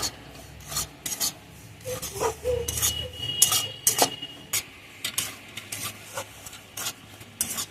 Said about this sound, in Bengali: সুজিটা কিন্তু লাল লাল করে ভাজবো না একটু সামান্য কাঁচা গন্ধটা যাওয়ার জন্য ভেজে নিয়েছি